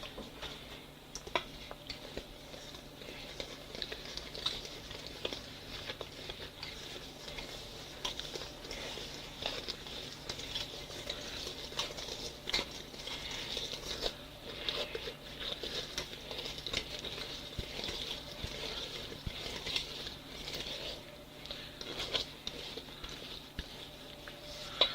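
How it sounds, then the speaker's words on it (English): A spoon works through sticky cookie dough mixed with vanilla and chocolate chips, giving quiet, irregular ticking and scraping taps at close range for a long stretch, with no talking. "Alright, now we stir."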